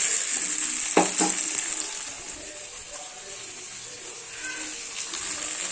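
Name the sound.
stirring bean curry with salt in pan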